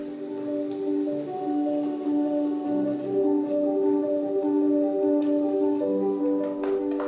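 Steady rain pours down and patters densely on surfaces, a loud, even hiss that holds for several seconds with no voices.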